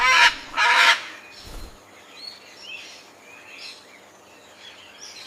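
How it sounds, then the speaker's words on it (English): A parrot gives two loud, harsh squawking calls in quick succession at the start, then only faint scattered chirps carry on quietly in the background. "It's a parrot."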